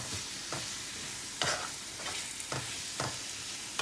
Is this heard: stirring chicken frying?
yes